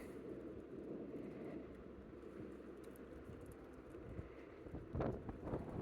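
Wind blows while fishing from a boat, a steady low rumbling buffet against the microphone with a couple of faint knocks near the end and no talk.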